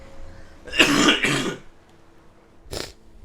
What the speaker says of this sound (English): I do have to cough, so I apologize